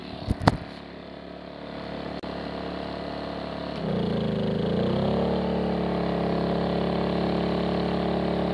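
An off-grid well pump at a tiny house runs at a steady hum, then its motor drops in pitch and climbs back up after a couple of sharp clicks; the tone stays close and continuous.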